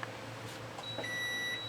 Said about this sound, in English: In a second, we'll hear a beep